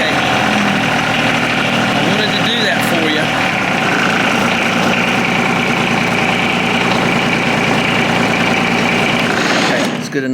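A John Deere 2305 compact tractor's diesel engine idles steadily after air is bled from its fuel system, a loud, even mechanical rumble with a faint ticking, holding constant before cutting off abruptly at the end.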